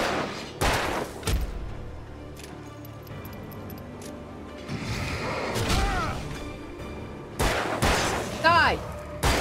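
Gunfire in the video game Alan Wake: several sharp, loud shots spread out across a tense fight, mixed with crashes and impacts, with a player's voice calling out over the action.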